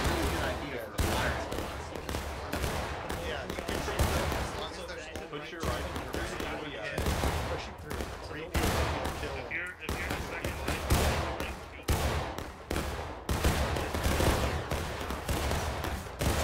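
Musket volleys crack in War of Rights, a Civil War battle at Antietam, with rapid overlapping shots and loud reports in irregular bursts across the whole stretch while players talk beneath the gunfire.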